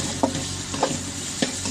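Crushed ginger and garlic sauté in a pan for a ladies finger chilli gravy, a steady close sizzle with three evenly spaced stirring scrapes.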